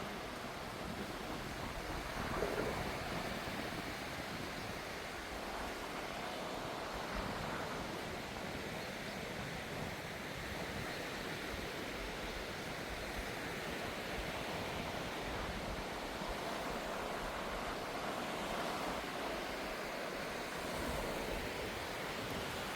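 Surf washes onto a beach on Koh Kut island, Thailand, a steady broad rushing roar of breaking waves with light wind noise throughout and no voices.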